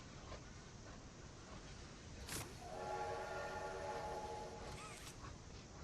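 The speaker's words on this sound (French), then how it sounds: "C'est toujours satisfaisant de tirer le sifflet du train." A train whistle pulled in the video game Poppy Playtime Chapter 2 sounds as a single clear, sustained multi-tone blast of about two seconds, rising out of faint background noise and then fading.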